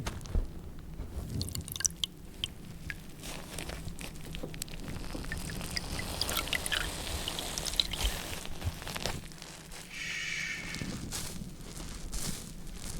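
Close-miked Scrub Daddy sponge scratching and squishing with soapy water, wet drips and squelchy rubbing strokes running continuously at a steady, intimate level with no talking.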